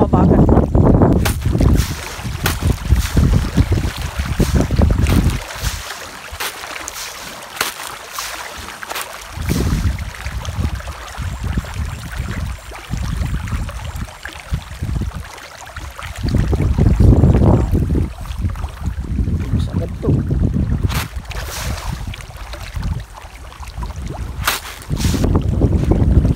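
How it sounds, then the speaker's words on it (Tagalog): Strong wind gusts across open farmland, buffeting the microphone in a heavy rolling roar that swells and eases over about half a minute, with a voice speaking at times beneath it. "Panahon dito sa amin mga kabukid, mahangin pa rin."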